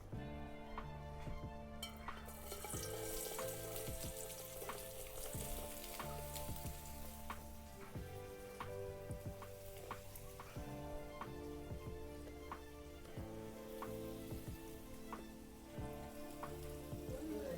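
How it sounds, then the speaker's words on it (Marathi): Chopped onion frying in hot oil in a pan gives a steady, close sizzle with crackling pops and occasional stirring scrapes, and no voices. "तेल पण तापले कांदा टाकून घेते"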